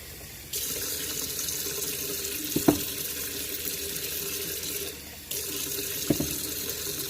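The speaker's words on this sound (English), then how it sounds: "what you're hearing is my sink. I'm trying to get hot water" A kitchen tap runs hot water steadily into a sink, stopping briefly then starting again, with a couple of light clinks against the basin.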